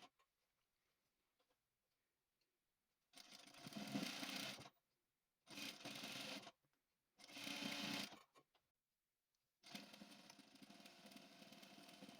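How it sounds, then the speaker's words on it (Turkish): A sewing machine stitching the shortened hem of a dress, running in four loud, close bursts of rapid mechanical whirring and ticking separated by silent pauses. "Gördüğünüz gibi düz bir şekilde dikiyor."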